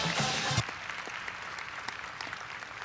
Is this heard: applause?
yes